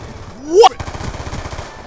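Gunfire in the video game Black Ops 2 comes as a rapid burst of loud shots just after a rising whooshing sweep, with the shots repeating quickly in a tight rhythm.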